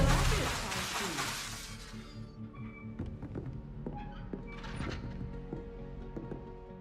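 Expelliarmus spell effect in Hogwarts Legacy: a loud crackling magical burst that fades, followed by a series of light tapping and thudding game sounds at moderate level, with no talk over it.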